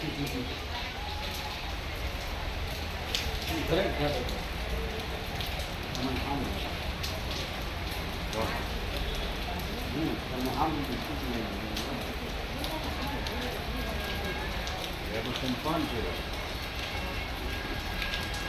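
Steady afternoon rain falls continuously in Sihor town, Gujarat, at moderate loudness, a constant hiss with faint voices and distant sounds mixed underneath.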